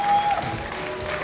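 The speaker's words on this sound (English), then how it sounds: "A round of applause." Tournament crowd at a Super Smash Bros. Ultimate event breaks into a short burst of applause, a dense wash of clapping with a faint tone and voices mixed in.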